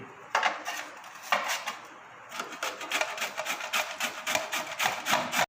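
A peeled pumpkin scraped against a metal grater in a kitchen: repeated rhythmic rasping strokes, close and crisp, a short pause, then faster steady grating strokes with no talking.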